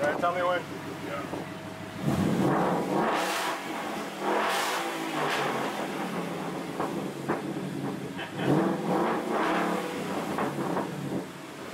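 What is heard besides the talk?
2014 Mustang GT engine revving with muffler delete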